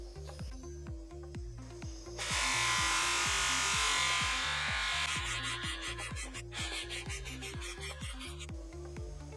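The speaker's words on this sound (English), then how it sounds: "So it's like a final polish with a waffle cloth like wheel." A waffle cloth wheel polishes a stone grave memorial, a rapid rhythmic whir with a steady pulsing beat, swelling into a louder rushing buff for a few seconds mid-way before settling back.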